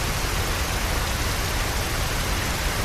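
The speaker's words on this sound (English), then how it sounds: "L's on the roof while it's raining and Light calls out to him" Steady heavy rain pours on a rooftop in a Death Note anime scene, a dense, even hiss filling the whole stretch without pauses or voices.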